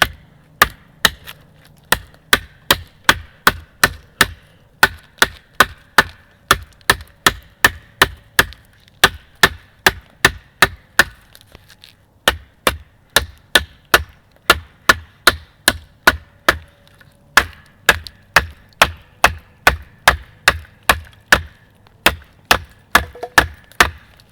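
Hunt Plus camp knife chopping a halved piece of wood: dozens of sharp, evenly spaced wooden thwacks in steady bursts, close and loud, with a brief pause midway and no talking.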